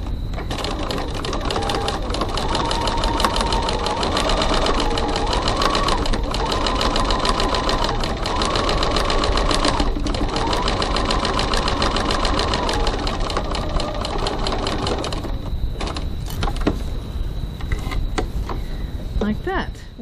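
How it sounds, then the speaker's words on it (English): Sewing machine running continuously as it top stitches a crossbody bag seam, a fast steady mechanical whir and clatter close up, slowing and stopping near the end. "we're top stitching the bottom side of our seam, 3 millimeters 1/8 of an inch from the edge"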